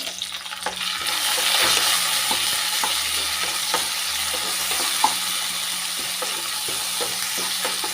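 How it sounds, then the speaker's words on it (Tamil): Tomatoes are sautéed with onion, garlic, ginger and curry leaves for a double beans gravy, giving a continuous close sizzle with scattered clicks and scrapes of stirring, no talking heard. "வெங்காயம் பூண்டு இஞ்சி எல்லாமே நல்லா வதக்கிடுச்சு வதங்கியாச்சுங்க இப்போ வந்து ரெண்டு தக்காளி சேர்த்துக்கிறேன்"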